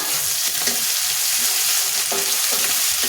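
Chopped garlic frying in hot oil makes a loud, dense, close sizzle that holds evenly throughout.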